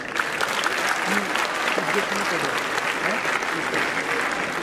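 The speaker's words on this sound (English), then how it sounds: "Huge round of applause for him, guys." A crowd at a graduation ceremony claps steadily and loudly throughout, with a few voices and cheers mixed in beneath the dense applause.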